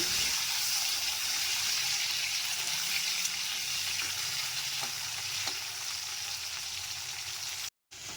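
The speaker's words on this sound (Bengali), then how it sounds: "ওই আলুগুলোকে আমি ভেজে নেব" Sliced potatoes fry steadily in hot oil, a dense, even sizzle holding close and loud throughout, with a few soft clicks of movement in the pan and a brief dropout near the end.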